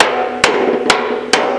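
An inexpensive Walmart hammer strikes sheet metal three times at even intervals, each blow a sharp, bright metallic crack over a steady background hum while shrinking metal.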